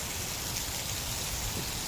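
Heavy rain pouring down steadily, a dense, even wash of drops hitting surfaces close by, with no voices.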